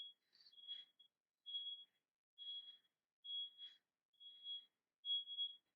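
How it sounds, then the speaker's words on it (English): Electronic beeping from a computer backing up in a lecture room: a steady series of short high-pitched beeps, evenly spaced about once per second, repeating without speech over them. "I have to concentrate really hard with that beeping."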